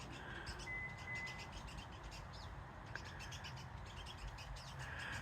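Wild birds chirp and call around backyard feeders stocked with suet and sunflower seed, with a few crow-like caws over a steady outdoor hiss; calls are moderately near and scattered, with no talking.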